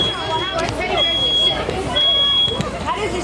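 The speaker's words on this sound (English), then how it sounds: "Now that smoke, red smoke detector is going to keep beeping." A high electronic smoke alarm chirps in sustained tones over a busy room full of overlapping voices and movement, during a live fire sprinkler burn demonstration.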